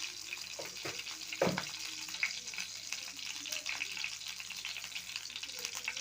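Cumin and mustard seeds sizzling in hot oil in a home kitchen pan, a soft steady crackle with a few sharper pops, fairly quiet and close.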